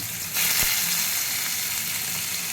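Onion and a little coconut frying in a pan, a steady broadband sizzle that swells loudly after a brief quieter start, with one sharp crackle early on, no voices.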